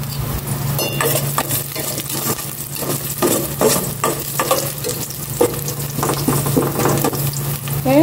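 Garlic fries in olive oil, giving a close, lively sizzle broken by frequent metallic scrapes and clinks of a utensil stirring in the pan, with no speech.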